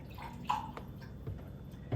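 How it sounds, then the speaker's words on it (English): Chicken broth poured into a pan of gravy, a quiet, close liquid splash and trickle with a brief louder burst near the start and small drips after. "and then you're simply going to pour it in."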